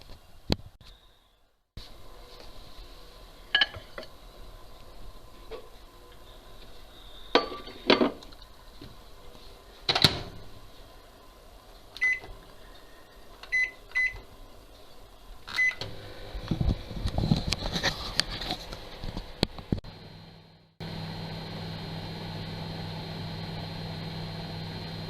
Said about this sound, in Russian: Все это ставим на 2 минуты в микроволновую печь на максимальной мощности.